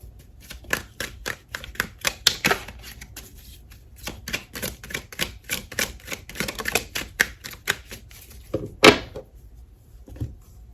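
Tarot cards shuffled by hand in a run of quick, crisp riffling flicks and taps, close and fairly quiet, ending in a sharper snap as a card is pulled.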